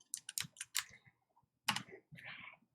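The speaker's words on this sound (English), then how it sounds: "let's start typing" Keystrokes on a computer keyboard while entering data into an Excel spreadsheet, in two quick bursts of close, crisp clicking separated by a short pause, with no voices.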